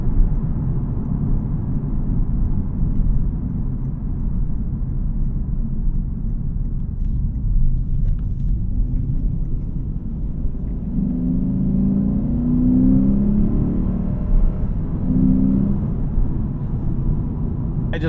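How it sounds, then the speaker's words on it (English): A 2024 Lexus IS500 F Sport Performance Premium with a V8 engine accelerating, heard from inside the cabin as a steady low rumble that swells into a rising engine note in the second half. "I just kind of want to let the V8 do the talking because this is just a treat."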